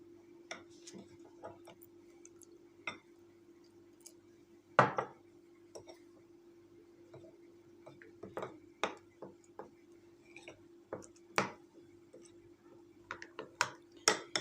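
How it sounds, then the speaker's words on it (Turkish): A spoon stirring a flour and water mixture in a bowl, giving light irregular clinks and taps against the bowl over a steady low hum, with a louder knock partway through. "Topak kalmaması için iyice karıştırıyorum."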